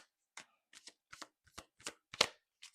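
A tarot card deck being shuffled, close up, in a run of quick, irregular riffling bursts with short pauses between, and no voices.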